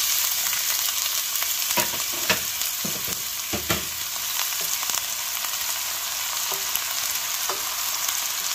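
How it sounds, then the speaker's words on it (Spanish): Onion fries in a pan with a steady, bright sizzle, joined by a few sharp stirring scrapes and knocks as it turns transparent. "Aquí que se fría bien. La cebolla ya se puso transparente."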